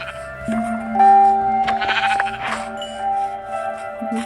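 Sheep in the Minecraft video game bleat several times in quick succession, loud and near, over a sustained musical tone and faint background game sounds.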